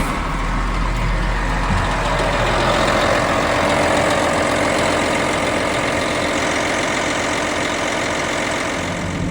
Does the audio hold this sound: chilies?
no